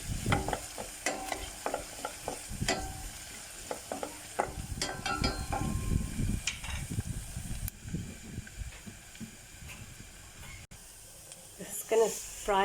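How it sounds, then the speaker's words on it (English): Curry leaves and onions fry in a pan with a crackling sizzle, punctuated by clicks and stirring scrapes, loudest early on and then settling into a softer hiss. "This is going to fry until it softens up."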